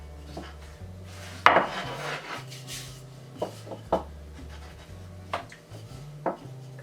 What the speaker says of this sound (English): all we're going to do is just stretch them out and roll them into little rounds